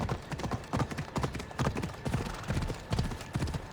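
A horse trots in Assassin's Creed, set in ancient Greece in 422 BC, its hooves clopping in a fast, steady rhythm close by over a low background, with no clear whinny.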